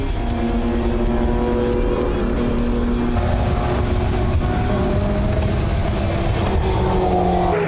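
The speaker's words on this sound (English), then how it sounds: "the Tiga passes the Porsche 911 RSR. Heading towards the finish line" Race cars, a Tiga and a Porsche 911 RSR, roar toward the finish line at Phakisa in a historic racing event, with steady loud engine drone and tonal whine throughout, no talk.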